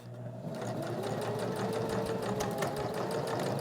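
A sewing machine stitches a fabric pocket fidget, its needle running in a steady rapid whirr that starts after a brief pause and continues close and even to the end.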